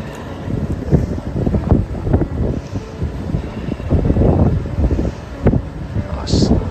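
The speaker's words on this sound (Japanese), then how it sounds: "ちょっと風は強くてありますけど" Strong gusting wind buffets the microphone as a typhoon approaches a rural cowshed area, a rough, uneven rumbling roar with surges throughout, mixed with indistinct voices.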